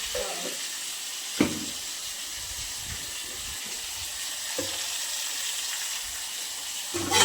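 Dal being tempered in hot oil sizzles and hisses steadily up close, with a few sharp clinks of a utensil against the pot breaking through the constant frying noise.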